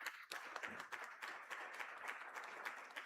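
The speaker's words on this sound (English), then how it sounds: "Please, a big round of applause for Dr." Audience applause for a doctor at a medical conference, a brief spell of scattered and overlapping clapping, fairly faint and uneven, with no speech over it.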